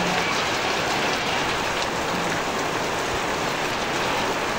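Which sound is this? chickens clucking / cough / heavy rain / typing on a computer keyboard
heavy rain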